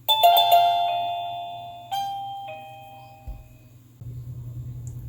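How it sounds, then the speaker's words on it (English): Rebluum wireless video doorbell chime ringing a bright multi-note melody, with further chime notes decaying and a low electrical hum running underneath. "Okay, we'll hit the doorbell now."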